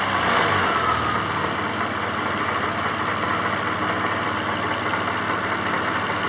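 A Chevrolet Epica's 2.5-litre X25D1 engine runs at a steady idle, a continuous low rumble with a faint mechanical knock, close and loud throughout.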